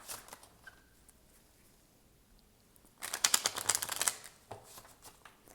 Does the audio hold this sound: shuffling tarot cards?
yes